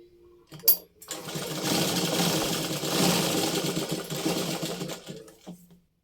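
Domestic sewing machine stitching after the bobbin is reinserted, a fast continuous mechanical whirr and clatter lasting about four seconds, starting and stopping abruptly with brief handling clicks before and after.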